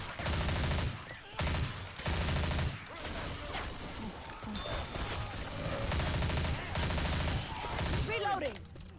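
Rapid bursts of automatic gunfire cut down armored zombies in a video game, loud clattering volleys repeating with short gaps, with voices talking in the mix.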